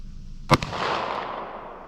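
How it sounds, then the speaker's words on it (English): A single sharp revolver shot fired at about 15 yards, close and loud, with a quick echo following and a long fading outdoor reverberation. "So we'll go ahead, we'll fire a few shots out of them."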